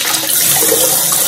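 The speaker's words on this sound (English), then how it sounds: "you're going to turn the water on and off a couple of times" Water rushes loudly and steadily through a slow-filling toilet tank's fill valve, a constant hissing flow with no break over the short stretch.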